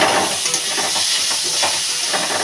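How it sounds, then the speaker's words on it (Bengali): Chopped potato and pointed gourd with green chillies fry in a wok. A loud, steady sizzle sounds close up throughout, with stirring audible under the hiss and no voices. "কড়াইটা ভাজাটা মেরে দিচ্ছি"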